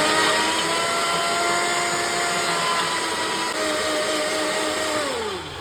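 A Kuvings blender grinds tomatoes and cashews into a fine paste, a loud steady motor whine with a shifting pitch that drops as the blades slow near the end, heard alone without talk.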